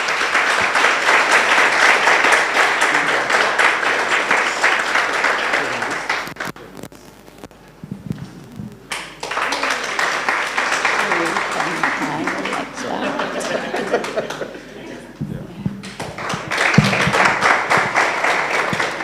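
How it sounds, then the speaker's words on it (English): Audience applause at a memorial lecture, a dense round of clapping that dips briefly, then returns with voices talking over and between the bursts. "Let's clap for him."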